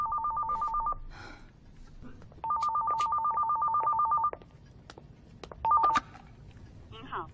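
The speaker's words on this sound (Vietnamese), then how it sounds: "Vũ Nhi, nghe điện thoại đi con." A telephone rings in bursts of trilling electronic bell tones, three rings separated by short gaps, loud and close, with a voice speaking faintly between them.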